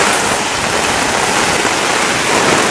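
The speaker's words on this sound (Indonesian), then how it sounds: "Anginnya sangat kencang." Strong, cold wind roars in a steady broadband rush alongside rain, loud and close throughout with no clear gusts standing out, during a storm in Pekalongan.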